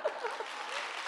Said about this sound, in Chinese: 这是几百分的掌声。